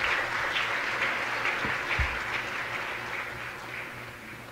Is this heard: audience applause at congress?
yes